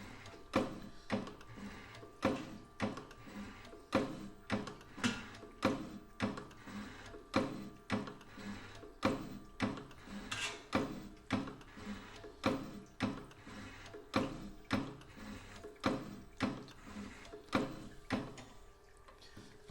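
A GPE desktop gummy machine for CBD and THC gummies runs its cleaning cycle, producing a steady mechanical clacking at roughly two beats per second, close and moderately loud, with a faint hum underneath and no voices.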